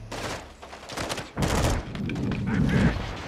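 Gunfire in Call of Duty Warzone while sniping in Al Mazrah, a burst of loud shots up close followed by sustained dense firing and game noise, with faint talk mixed in.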